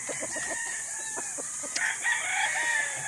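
Young rooster stags on a game farm: a rhythmic run of clucks leads into a crow, moderately distant against steady outdoor background noise.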